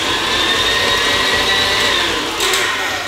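An electric mixer whisks a chocolate mousse mixture for a Valentine's Day cake, a steady loud motor whine with a high harmonic tone running throughout, no voices.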